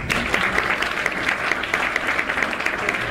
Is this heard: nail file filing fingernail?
no